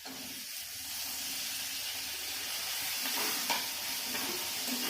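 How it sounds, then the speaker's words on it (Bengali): Green peas frying with turmeric in a pan for matar paneer, a steady moderate sizzle with hissing steam and occasional soft stirring scrapes, close and fairly quiet, with no speech. "ভালো করে আবারও কষে নেব মটরশুঁটিটা দিয়ে"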